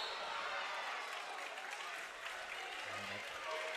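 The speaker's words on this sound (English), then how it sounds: "And you hear the crowd erupt." Crowd at a girls' Elite 8 basketball game erupting after a foul call underneath the basket, a loud, sustained roar and applause that stays high throughout, with a brief tonal whistle-like sound near the end.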